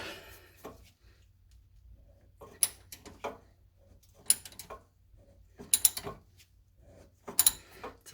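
A 9/16 deep socket on a ratchet wrench works loose the oil pan bolts under a 1977 C3 Corvette in a tight space, with short bursts of ratcheting clicks separated by quiet pauses, close and crisp.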